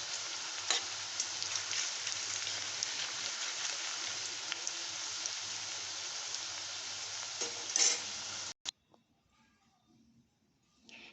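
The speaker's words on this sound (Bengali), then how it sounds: "তেলের মধ্যে দিয়েই এইভাবে নাড়তে থাকবে, নাহলে একটার সঙ্গে আরেকটা লেগে যাবে।" Bitter gourd chips fry in hot oil with a steady, dense sizzle for about eight seconds while being stirred, then the sizzle cuts off abruptly, leaving a near-silent background.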